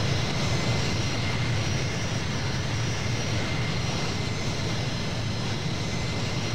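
The engines of a C-17 Globemaster in Flight Simulator 2020 give a steady, loud broadband roar with a low rumble, unbroken throughout and with no talk over it.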